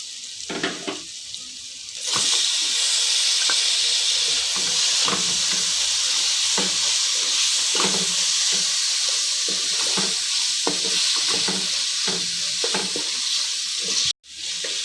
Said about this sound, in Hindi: हम चिकन और टमाटर इसमें शामिल करेंगे और इसको भूनेंगे।